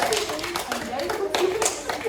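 Students clapping together in a classroom, a steady patter of hand claps running throughout with voices talking over it.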